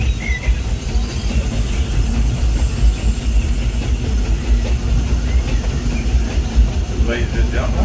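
The Disneyland Railroad steam train Ernest S. Marsh runs at night with a steady low rumble and rolling clatter of rail cars, a brief whistle-like tone near the end, and a voice talking over it.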